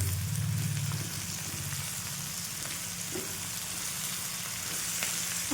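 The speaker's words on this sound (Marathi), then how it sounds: "आता याच्यामध्ये आपल्याला कढीपत्ता आणि हिरवी मिरची टाकून घ्यायची, सोबतच कांदा पण टाकून घ्यायचा आणि छान परतून घ्यायची" Curry leaves, green chilies and onion sauté in hot oil for a Telangana-style bitter gourd dry dish, giving a steady close crackling sizzle with a low stirring rumble and no voices.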